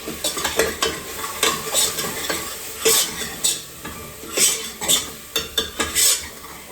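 An iron spoon stirs and scrapes inside a pressure cooker of sev curry, with repeated clinks and scraping strokes in an irregular rhythm over a soft background sizzle.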